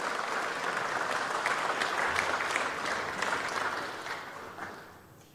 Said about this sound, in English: A round of applause for Manu Ha'apai Vaia Tangitau.